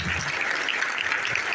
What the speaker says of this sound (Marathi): त्या देवासाठी एक मनापासून जोरदार टाळ्या होत्या